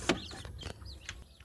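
Red junglefowl (labuyo) chicks at a rural Philippine home give a few soft, high peeping chirps, scattered and faint against quiet background noise.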